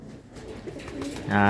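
A pigeon or dove coos near the end in Virac, Catanduanes, a low, steady hooting call rising over faint background noise and a soft voice.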